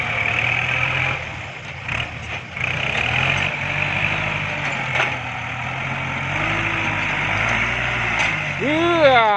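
A Kubota tractor engine revs and labors as it pushes to climb out over a rice paddy bank. The loud, steady mechanical drone runs throughout, rising and falling in places, with a brief tonal whine near the end.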